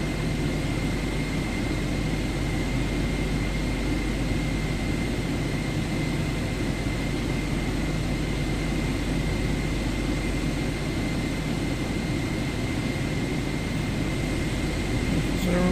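An airliner taxiing to the runway in Microsoft Flight Simulator 2024 gives a constant low engine rumble and whine, steady and unbroken throughout, with no talk over it.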